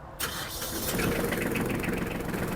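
A Kubota KL-23 tractor with a manual gearbox cranks briefly and starts, then settles into a loud, even idle close by with no talk over it.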